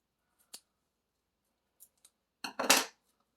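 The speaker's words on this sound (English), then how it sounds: "I'm going to cut mine in half." Scissors cutting card stock in half for a folded paper card: a couple of faint isolated snips, then a louder, close crisp cut near the end, with quiet between.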